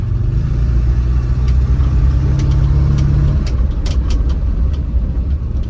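An Opel Kadett C engine runs at a steady, loud idle. A low drone drops away partway through, and then the engine keeps running with light ticking and clicks.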